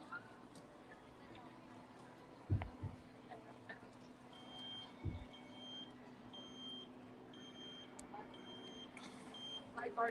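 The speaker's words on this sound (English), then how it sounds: "except for the beeping of the scooters backing up" Repeated high electronic beeps of mobility scooters reversing at Disneyland, steady and fairly distant, over a busy crowd murmur with occasional low thumps.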